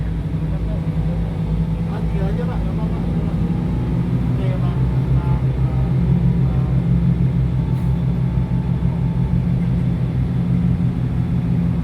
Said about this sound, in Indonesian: bagaimana mensimulasikan hard braking Pak